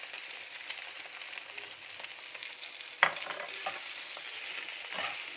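Potatoes sizzle steadily in a little oil with spices sprinkled over them, with a close, continuous frying hiss and one sharp clack of a spoon against the pan partway through.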